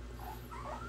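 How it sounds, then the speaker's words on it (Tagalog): Puppies whimper and give thin, high yips in a steady, continuous stream of small cries over a low background hum, close and moderately loud. "So ito po, nag-iingay yung mga tuta natin."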